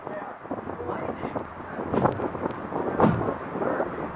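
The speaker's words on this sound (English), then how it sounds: "A wee bit windy, eh?" Strong wind from Hurricane Helene roars and buffets in heavy gusts, surging louder around the middle, with a voice faintly heard beneath it.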